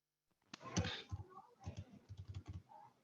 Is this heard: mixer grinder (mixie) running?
no